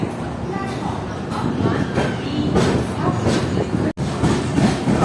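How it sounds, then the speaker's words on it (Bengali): An Intercity Express train departs New Bongaigaon station, its cars rumbling and clattering steadily over the rails with faint wheel squeal, under light talk nearby. "আমাদের ট্রেন রাইট টাইম 4:30 ছেড়ে দিল নিউ বঙ্গাইগাঁও রেলওয়ে স্টেশন"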